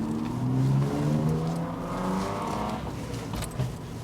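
Volkswagen Golf car being put into reverse and backing up, with a low engine hum rising and settling, close and moderately loud, no speech.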